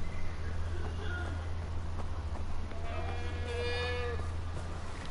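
A goat in Far Cry 4 bleats a few times against steady game ambience and a low constant hum, while someone talks intermittently.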